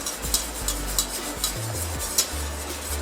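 Caramel being stirred in a pan for homemade ice cream, a steady low scraping churn with a few sharper clinks of the utensil against the pan, no voices.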